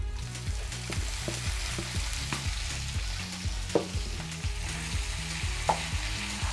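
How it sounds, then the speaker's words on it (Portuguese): Calabresa sausage frying in a pan, a steady sizzle under a regular rhythmic mechanical thumping from a nearby appliance, with a few sharp clinks. "a gente vai estar colocando a linguiça calabresa"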